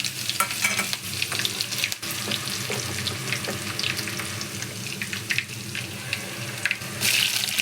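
Cumin seeds and curry leaves fry in hot oil in a pan, giving a soft, steady sizzle with scattered crackles and pops and a few clinks, at low volume with no talking.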